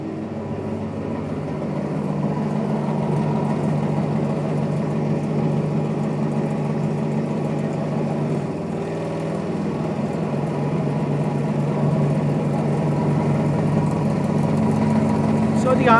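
DC motor spinning at about 1350 RPM on a series and shunt machines training kit, a continuous steady hum and whine that swells slightly, running alone without talk.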